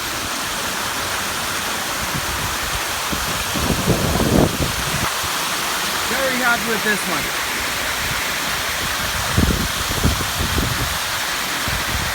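A large backyard waterfall on Long Island pours into a pond with a steady, loud, full rushing roar throughout, while someone talks over it in a few short bursts.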